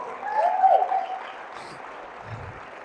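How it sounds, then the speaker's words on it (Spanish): Applause from a church congregation during a worship service, a broad steady patter of clapping that swells early and then eases off to a lower, even level. "Vamos a darle un fuerte aplauso al Señor"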